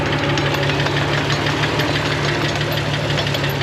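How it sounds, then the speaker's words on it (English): A worn front drivetrain on a 2000 Jeep TJ with a ruined double cardan joint makes a continuous loud knocking, clattering rumble under the running engine, steady and close throughout. "Look at that front drivetrain wiggling. Plenty of noise."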